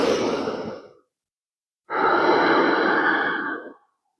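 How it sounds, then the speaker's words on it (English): Two slow, deep breaths during a low back and leg stretching routine, a long airy exhale, a pause, then another steady breath, close and clear with no talking. "We're going to take a couple of deep breaths in and out."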